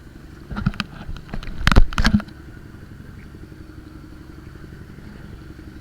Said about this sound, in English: Diesel's going.